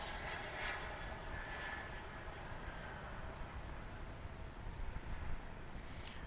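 A jet airliner takes off from a runway at DFW International Airport, making a steady broad roar of engine noise that holds at a constant level throughout, heard from a distance.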